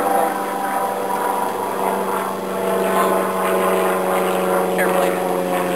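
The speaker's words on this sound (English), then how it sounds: "Airplane." An airplane drones overhead at an outdoor parkour spot, a steady broad engine roar with a faint tonal hum holding level throughout, with no talk.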